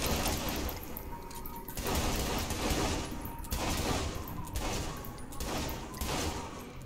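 Pistol gunfire in the video game Saints Row 3 Remastered, a fight against zombies: dense, loud bursts of repeated shots in quick clusters with short gaps, continuous game noise throughout and no talk.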